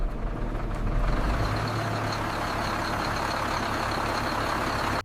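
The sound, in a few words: diesel engine of a restored cargo loader machine starting up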